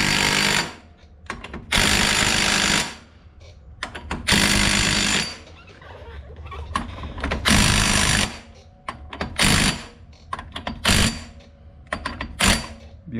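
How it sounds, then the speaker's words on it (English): A 1/2 inch impact wrench tightens an ATV axle nut on a Honda Rubicon IRS, firing in repeated loud hammering bursts of a second or two each, with short pauses between them and no talk. "A little 1/2 inch impact will save you a lot of time."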